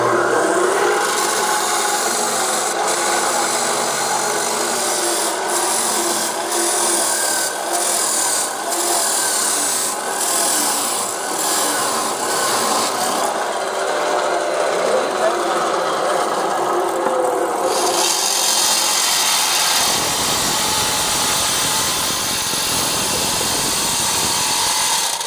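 Black pipe being cut, a steady harsh rasping and grinding that runs on and on, changing pitch partway through near the end, loud and close with no voices.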